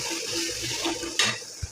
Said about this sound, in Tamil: தண்ணி தேவையான அளவு ஊற்றிக்கலாம்.